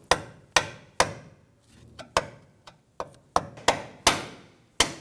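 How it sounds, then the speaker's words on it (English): A hammer strikes a notched screwdriver to split the tie rod boot band on a 2017-2020 Hyundai Elantra, giving about a dozen sharp metallic whacks at an uneven pace, each ringing out briefly, close and loud. "then we just whack it with the hammer"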